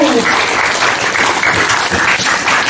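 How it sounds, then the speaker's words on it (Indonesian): Audience applause at a Balinese Arja dance-drama performance by IKIP PGRI Bali students at Canggu, a dense steady wash of clapping throughout, with voices faintly mixed in. "Tepuk tangan untuk kamu."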